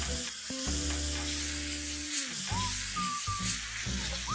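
Chicken in masala sautéing in a hot pan, with a steady sizzle and frying crackle running throughout and a few brief tonal hums over it.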